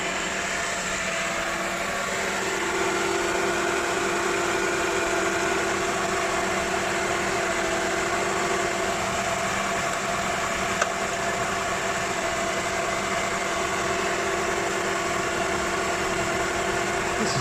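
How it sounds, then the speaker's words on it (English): A Mercedes SL500 engine runs close and steady, its drone stepping up slightly to a higher, evenly held rev and holding there with a faint vibrating hum. "The car is revving higher now."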